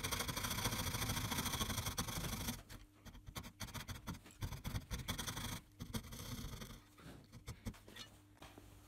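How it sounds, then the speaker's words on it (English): A coping saw cuts a groove in wood for a wooden combination lock, giving rapid rasping back-and-forth strokes, loud and close at first, then broken into irregular bursts of scraping. "I'll now use a coping saw to cut a groove for the nail."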